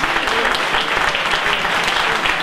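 Audience applauding a speaker at a political gathering, dense sustained clapping from a crowd, steady and fairly loud throughout with no voices over it.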